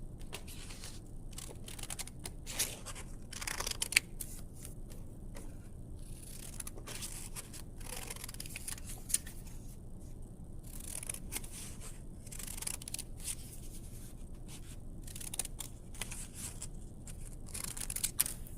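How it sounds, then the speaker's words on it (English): Scissors snip through paper to cut out a star shape for a holiday kids' craft, with a steady run of close, soft crisp snips and rustles throughout. "So the first thing that I'm going to do is I'm going to take my star and I'm going to cut"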